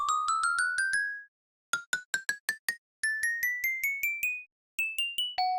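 Minecraft note blocks play bright, bell-like chime tones in quick stepped runs of rising pitch, struck in bursts of five to eight notes with short silent gaps between, clean and close with no talk.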